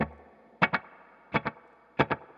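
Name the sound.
electric guitar with slapback delay effect pedal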